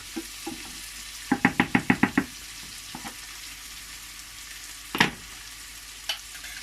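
Lamb and giant couscous frying in a pan are stirred, a quick run of six or so scraping spoon strokes against the pan over a faint sizzle, with a few isolated knocks before and after.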